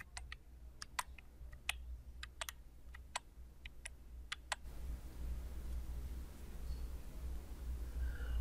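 Repeated presses of the Tab key on a computer keyboard, moving between form fields in data-entry software: about a dozen sharp, close clicks in an uneven rhythm over four seconds, then stopping, leaving only a low steady hum.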